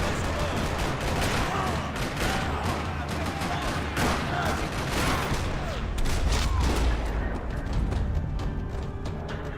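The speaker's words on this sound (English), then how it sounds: "Another parking lot rattling with gunfire." Gunfire rattles across a parking lot in a video game: dense, overlapping bursts and rapid automatic fire, loud and continuous, with heavy booms mixed in and scattered voices underneath.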